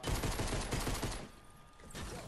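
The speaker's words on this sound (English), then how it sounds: "Don't drop useful weapons like a pistol, you get me? Because look at this fire rate." In the Fortnite video game a pistol fires in a rapid fusillade of sharp, closely spaced shots for about a second, then stops, leaving a quieter stretch of faint background game noise.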